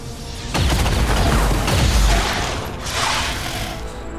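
Gunfire erupts in the XCOM 2 strategy game as a loud, rough burst that rumbles for a couple of seconds, followed by a shorter second crack and mechanical clatter, with no voices.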